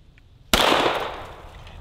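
A single sharp gunshot from a handgun aimed at a paint can target outdoors, one loud close crack after a brief quiet, followed by a decaying echo.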